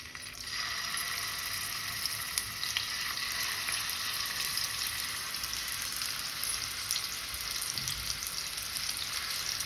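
Chicken kebabs fry in hot oil over a very low gas flame, giving a steady, close sizzle with fine crackling that runs unbroken throughout, with no talking.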